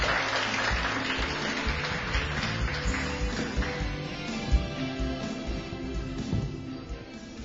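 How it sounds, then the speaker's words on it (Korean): An audience at a Cheongju community college opening ceremony applauds to welcome a speaker, a dense, steady clapping that holds for several seconds and fades slightly toward the end, with no talk over it. "큰 박수로 모시겠습니다"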